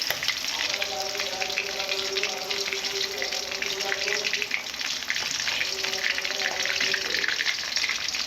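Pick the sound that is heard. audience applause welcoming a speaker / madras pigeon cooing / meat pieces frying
meat pieces frying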